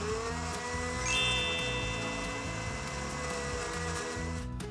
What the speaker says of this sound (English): Puree it in a blender.